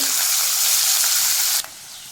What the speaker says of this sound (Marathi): तेल गरम झाल्यानंतर चिमूटभर हिंग थोडंसं जिरं आणि इथे कांदा घालून घेणार आहे